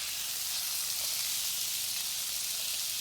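Cherry tomatoes frying in a pan of sweet potato hash, giving a steady, close, bright sizzle that holds evenly throughout with no talking.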